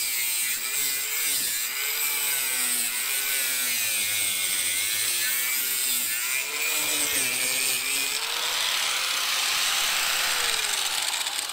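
A right angle grinder cutting through a metal pole while running from a BLUETTI EB3A portable power station, a loud, steady high-pitched grinding whine with wavering pitch that lasts throughout.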